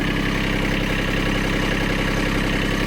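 A small Kubota tractor engine idles steadily with a constant, even rumble and faint vibration. Close and loud, with no voices.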